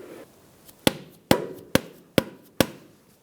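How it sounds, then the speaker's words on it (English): Rubber mallet striking the end of a front left CV axle on a 2007-2017 Ford Expedition to seat it, five sharp, evenly spaced knocks close to the microphone, each ringing briefly before the next. "you can take a rubber mallet and hit the end"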